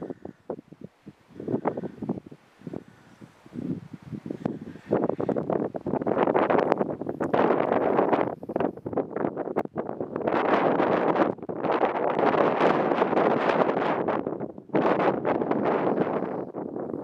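Strong gusting wind on the summit of Mt Cardigan, New Hampshire, buffets the microphone in loud, roaring bursts, with faint rustling and a few brief pauses between gusts.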